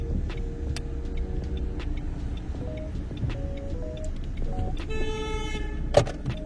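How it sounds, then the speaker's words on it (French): Traffic rumbles at an intersection as a car horn gives several short toots, followed by a longer, louder honk near the end. "Alors je suis à droite, j'ai la priorité et en plus ça me klaxonne."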